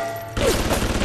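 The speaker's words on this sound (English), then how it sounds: "Stupid turrets trying to shoot me" Turret gunfire in the video game Bioshock: after a quiet start, a loud stream of rapid, rattling shots fills the rest of the moment with dense repeated bursts.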